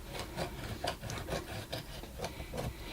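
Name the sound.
scissors trimming paper along a book edge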